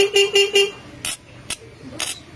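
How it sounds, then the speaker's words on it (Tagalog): A Yamaha Mio Sporty scooter that won't push start sounds its horn in four quick, loud toots, followed by a few sharp clicks and knocks. "Ayaw pa rin, pero may busina pa rin siya"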